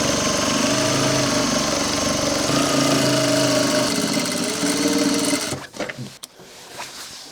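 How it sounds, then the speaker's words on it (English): Sewing machine running a continuous quarter-inch seam up a workwear jacket sleeve, a steady close motor whir for about five seconds before stopping, followed by faint handling clicks. "we're just going to stitch with a 1/4 seam allowance all the way up this other side"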